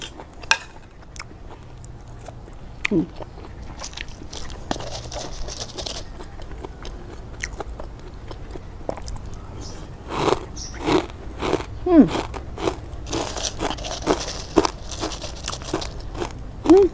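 Crunchy bites and chewing of crispy fried fermented sour fish with herbs, close and intermittent, with occasional light clinks of dishes and cutlery in a quiet room.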